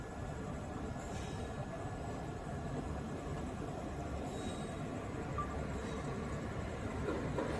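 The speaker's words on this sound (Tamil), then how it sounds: "രാമേശ്വരം പാസഞ്ചർ ഇതാ വന്ന് കയറിക്കൊണ്ടിരിക്കുക കേട്ടോ" A WAP4 electric locomotive hauling a Rameswaram passenger train rolls into Manamadurai Junction, a steady loud rumble of wheels and carriages on rails that persists throughout without a break.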